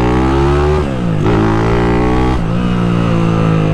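OHC 240cc motorcycle engine revving close by, loud and rising in pitch, dipping and climbing again twice between throttle blips.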